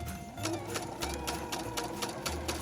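A sewing machine stitches Christmas napkin fabric, two pieces placed face together and sewn down. The stitching is a fairly quiet, steady rapid pulsing that runs unbroken throughout.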